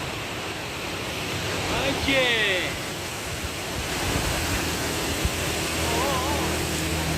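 Cold mountain water rushing steadily near Babusar Top, a continuous broadband roar that stays loud throughout, with a brief chirping sound partway through.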